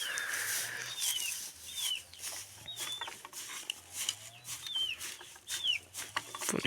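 A broody turkey hen clucks in short, repeated, chirpy calls spaced through the stretch, fairly close and moderately loud over a low background hum, with no talking.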